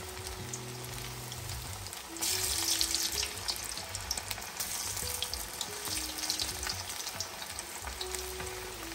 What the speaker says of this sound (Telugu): ఆయిల్ మంచిగా వేడైంది. సో మనం ఇప్పుడు చికెన్ వేద్దాం.